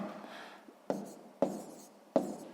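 A pen or pencil writes numbers on paper for a long-division problem, a soft scratchy stroke followed by three short, sharp taps spaced evenly, close and quiet with no talking.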